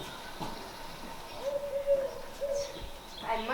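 A snow-white bird sings sweetly at midday, its faint, wavering song holding steady tones with a few chirps over a quiet background.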